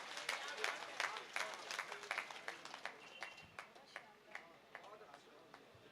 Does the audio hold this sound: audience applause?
yes